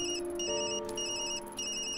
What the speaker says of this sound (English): Always the work phone.